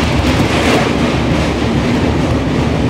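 A train rumbles loudly across the Sri Kanaka Durgamma railway bridge over the Krishna River at Vijayawada, with wheels and carriage noise roaring steadily from close by.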